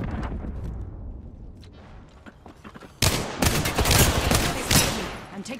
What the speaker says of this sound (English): Taking shots. Opening fire.